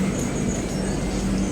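Godavari Superfast Express train rolling along on its run between Hyderabad and Visakhapatnam, a steady rumbling rail noise with wheel and carriage hum heard from inside the coach, continuous and moderately loud with no talk.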